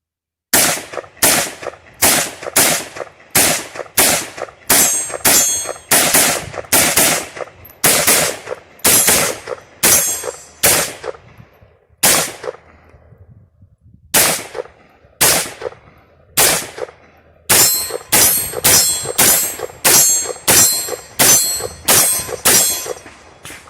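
Rifle firing steel-case .300 Blackout rounds outdoors, loud sharp cracks in quick strings of repeated shots with brief pauses between bursts, each report ringing briefly, no talk.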